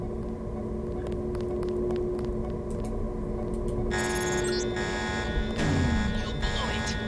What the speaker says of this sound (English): The alarm just closed the north door.